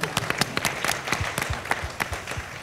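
A short, fairly faint round of applause from the audience at a community film screening: scattered, uneven hand claps with no talking over them.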